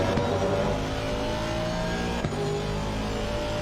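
Aston Martin GT race car in Assetto Corsa Competizione at Misano, engine revving hard with a steady rising drone and a brief gear-change blip midway, loud and close, no talking.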